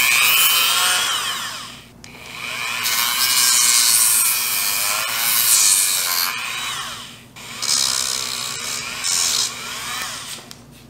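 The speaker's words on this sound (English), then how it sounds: "I'm going to finish up the job with a Dremel." Dremel rotary tool trimming excess material from the edges of small walking robot shoes, a loud high whine in three long grinding passes broken by short pauses, close up.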